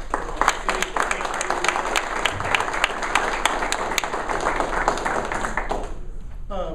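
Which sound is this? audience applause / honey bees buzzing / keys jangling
audience applause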